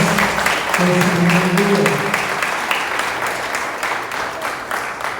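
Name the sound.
congregation applause in church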